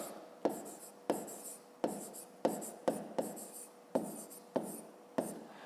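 A pen writes an answer in a maths exercise book, making close, quiet scratching strokes in about nine short separate bursts, each starting with a sharp touch on the paper.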